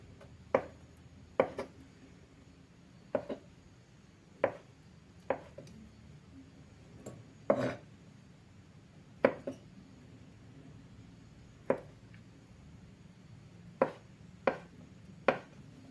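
A knife cuts boiled eggs into thin strips on a cutting board for an eggplant salad. About a dozen crisp, irregular chops sound close by over a quiet background.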